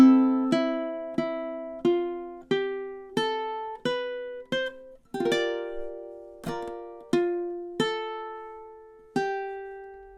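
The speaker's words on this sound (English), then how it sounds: "So that you can hear measures 9 and 10 put together," Measures 9 and 10 of a song played on ukulele, a steady run of about fifteen plucked notes and chords, each crisp attack ringing briefly, close-up and clear with no voices.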